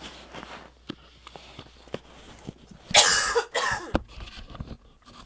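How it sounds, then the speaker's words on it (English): A single person's cough, sharp and close, bursting out around the middle with a brief follow-up, set against quiet room tone and a few light clicks and taps. "Sorry, I had to cough."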